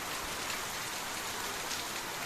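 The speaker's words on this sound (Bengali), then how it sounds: "দেখো বন্ধুরা, কীরকম বৃষ্টি পড়ছে" Steady rain falling, a constant even wash of drops throughout with no talking.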